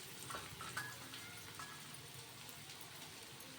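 Onion sautéing in a pan toward a pink colour, a quiet steady sizzle with faint scraping stirs and a few light clinks, no one speaking.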